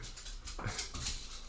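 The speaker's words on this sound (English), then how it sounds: "it's just my dog is going crazy" Excited dog whimpering indoors, giving high thin whines, a short yelp and panting sounds over a faint background, with no speech.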